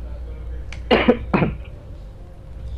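Two short, harsh coughs close to the microphone, one after the other, with quiet room noise around them.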